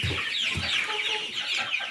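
Free-range chickens, a large flock raised in an enclosure, cluck steadily and close by, with several overlapping birds calling continuously and no talking.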